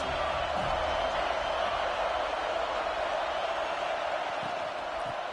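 A stadium crowd cheering in a college football video game, a sustained broad roar of many voices holding steady at a distance, with a few faint thumps underneath.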